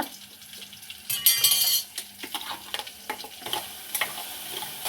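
Ground masala sizzling in a pan as a spoon stirs it for egg curry, with crackling frying, scraping strokes and occasional metal clinks, close and fairly loud, no talk.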